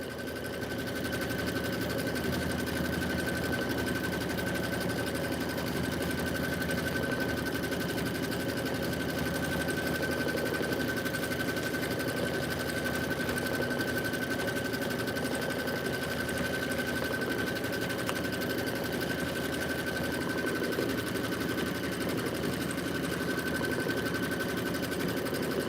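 A sewing machine runs continuously, stitching the inner and outer borders of an autumn quilt with an even, rapid mechanical whir and steady high hum that stays loud and close for the whole stretch.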